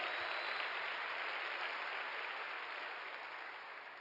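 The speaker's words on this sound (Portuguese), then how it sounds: "dar um aplauso ao Senhor" Steady applause from a church congregation during a Sunday worship service, a dense wash of clapping that holds evenly for several seconds before easing slightly, with no talk over it.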